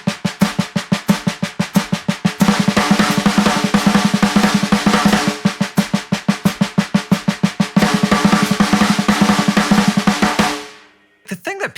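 Blushda drum fill played as 16th notes on a drum kit, a fast even stream of sharp hits repeating loudly and close for about ten seconds before stopping, with a few brief hits after a pause.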